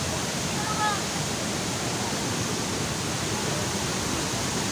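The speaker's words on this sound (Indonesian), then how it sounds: "betapa indahnya air mengalir dari atas tanpa henti, putih bagaikan salju" Bantimurung waterfall in Maros, South Sulawesi, pours without pause in a constant loud, broadband rush of falling water. A brief faint voice or bird chirp briefly surfaces above it.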